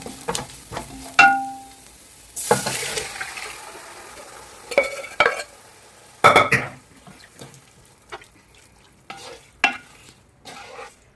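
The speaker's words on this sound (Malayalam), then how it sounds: "നമുക്കതിലേക്ക് വേവിച്ച് വെച്ചേക്കുന്ന ബീഫ് ചേർത്ത് കൊടുക്കാം" Pre-cooked beef being stirred into fried spices in a pan for a homemade beef fry, with intermittent scraping and clanking of a spoon against the pan over a soft sizzle, close and without speech.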